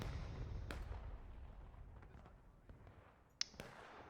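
Cannons fire in a Civil War video game: a few faint, distant booms and sharp cracks spaced apart, quiet and alone with no talk.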